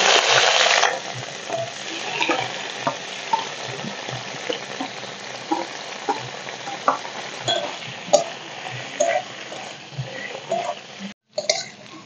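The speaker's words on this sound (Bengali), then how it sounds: "এই তেলের মধ্যে এখন পনিরগুলো বেশ লাল লাল করে ভেজে নেব" Paneer frying in mustard oil in a kadai, giving a continuous soft sizzle scattered with small pops and crackles, plus a few stirring scrapes. The sound is close and moderate, with no talking.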